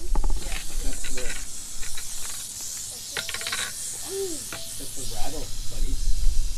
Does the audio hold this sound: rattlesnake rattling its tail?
yes